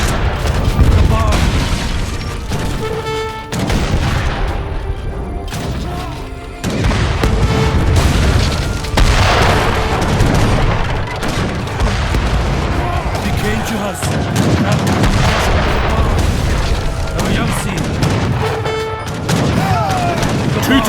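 Bombard cannons in the game Age of Empires III Definitive Edition fire repeatedly, booming blasts and gunfire crackle layered densely over a continuous battle din, loud and sustained throughout.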